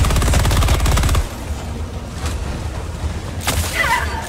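A support machine gun firing at about 700 rounds per minute in a Helldivers-style shooter on Vandalon IV, loud rapid bursts for about a second, then stopping, with scattered distant impacts and a whoosh afterward.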